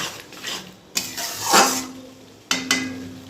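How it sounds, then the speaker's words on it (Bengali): Spices being stir-fried and scraped around a pan while cooking a soybean dish, with clattering utensil strokes against the pan at about 1, 1.6 and 2.5 seconds over a low sizzle, close and fairly loud. "এবার মশলাটা ভালো করে কষতে হবে।"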